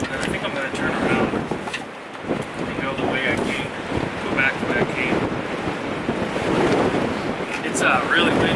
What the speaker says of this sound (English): It's really windy, it's cold.